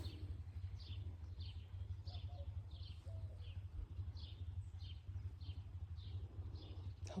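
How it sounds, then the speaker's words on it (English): Small birds chirp in short repeated high calls across a peaceful garden, fairly faint and distant over a steady low rumble of background noise. "you can hear the birds"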